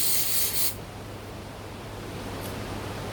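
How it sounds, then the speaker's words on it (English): A hissing burst of aerosol cleaner sprayed through a car MAF sensor, loud and close for well under a second, then a quiet steady hum with a faint second puff. "we're going to spray through it."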